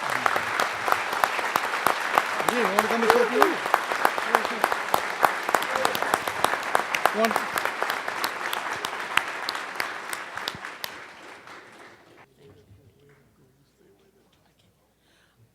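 Audience applause greets Oakland Mayor Jean Quan at a lecture event, steady dense clapping from a crowd that fades out around twelve seconds, with a voice speaking briefly over it.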